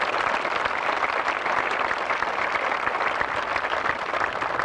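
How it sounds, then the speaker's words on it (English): Sustained audience applause fills a 1989 high school graduation hall, dense and steady throughout with no voices on top. "We have a round of applause, please."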